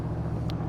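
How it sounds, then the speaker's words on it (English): Tuned 5.7 litre Chevy V8 in an AK Sportscars Cobra with side pipes, warming up: a steady low idle rumble, close and continuous, with no talk. "I'm just warming the engine up"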